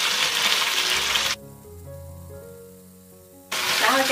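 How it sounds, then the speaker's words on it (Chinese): Pork ribs sizzle in hot oil in a pan, a loud steady hiss that drops away to near quiet partway through, then returns just as strongly. "把排骨放进来先煎"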